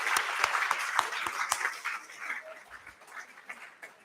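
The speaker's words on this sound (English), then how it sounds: "Special round of applause for all our student volunteers" Audience applause for student volunteers at a conference valedictory and certificate ceremony, a burst of sharp claps fading after a couple of seconds into murmuring room sound.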